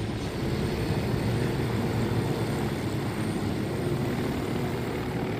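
A propeller airplane in Ghost Recon Wildlands roars steadily and loudly throughout, a thick, unbroken engine drone close up with no speech.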